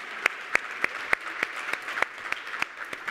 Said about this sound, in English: You're going to clap if you're ready to get this thing going.